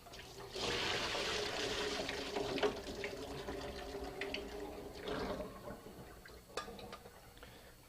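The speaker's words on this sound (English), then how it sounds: "We're going to strain the water off of them again." Water strained off cooked sweet potatoes, a close gushing pour that runs for several seconds, then tapers into trickles and scattered drips.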